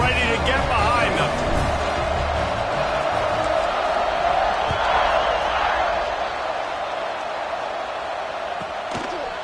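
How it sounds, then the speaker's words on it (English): A football stadium crowd at a college game roars steadily through kickoff, a dense, loud, sustained cheer filling the whole stretch with no pause. "this crowd now ready to get behind them"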